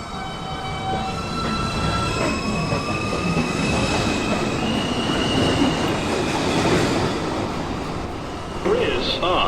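A Manhattan-bound 2 train in the New York City subway runs with a steady loud roar and rumble, with faint squealing wheels and a few brief tonal whines.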